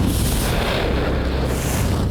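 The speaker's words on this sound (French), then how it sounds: "Voilà la puissance d'une explosion de poussière." A dust explosion bursts from a substitute silo, a loud, sustained broadband roar of fireball that fills the whole moment without pause and with no talking over it.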